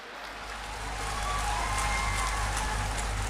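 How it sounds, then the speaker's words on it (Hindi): A crowd at a public employment-day event in Shahdol, Madhya Pradesh, breaks into applause that swells and then holds steady, a dense patter of many clapping hands, with no talking. "इस पे तो जोर से ताली हो जाए जरा।"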